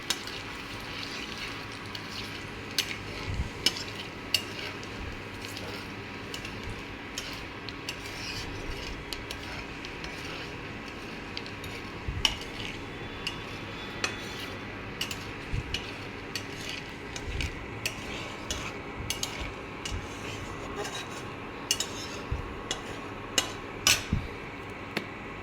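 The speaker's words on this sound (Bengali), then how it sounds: "এবার এটা একটু ভেজে নিই।" Bay leaf and cumin seeds frying in a pan of hot oil, a soft continuous crackle with intermittent scraping and clinks as a spoon stirs, fairly quiet throughout.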